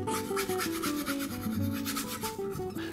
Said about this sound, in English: by adding a little bit more liquin impasto and liquin fluid medium, you can just start to scrub this in.